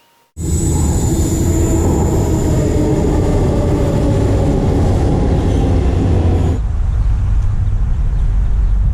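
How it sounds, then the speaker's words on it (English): A Vande Bharat express train roars past up close in India, loud and continuous, with rumbling wheels and a high metallic whine; the sound shifts lower partway through. "I guess I can hear some train, let us see."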